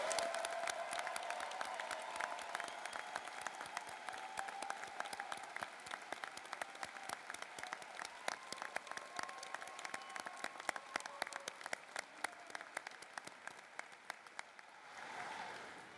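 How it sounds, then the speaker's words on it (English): Applause for a graduating veterinary medicine class at the close of a commencement ceremony, a crowd clapping steadily, thinning to scattered individual claps before tapering off. "letting us give one more round of applause to the class of"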